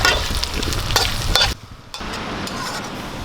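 Sliced onions frying with garlic and curry leaves in coconut oil, a close continuous sizzle with stirring scrapes that briefly drops away before the frying resumes more softly.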